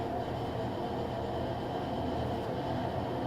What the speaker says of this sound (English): sorry if my washer is super loud right now